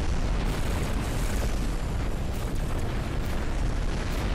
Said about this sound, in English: we are just destroying all the asteroids around